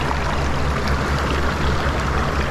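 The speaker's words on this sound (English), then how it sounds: "it's a Little East Fork River in Canton, North Carolina." The Little East Fork River in Canton, North Carolina, a native trout stream, rushes and burbles in a steady, close wash of flowing water with no voices.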